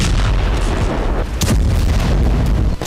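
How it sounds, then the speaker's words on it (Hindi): Heavy bombardment in a war zone, Israeli strikes on Hamas positions, with dense continuous rumbling booms and overlapping blasts, loud and sustained, with sharper cracks near the middle and no talk. "हमास के अड्डों पर इजराइल भीषण बमबारी कर रहा है।"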